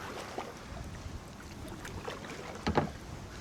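Wind gusts across the Grand River during a kayak or canoe paddle, a steady soft rushing close to the microphone, with a few faint splashes and one brief louder knock near the end.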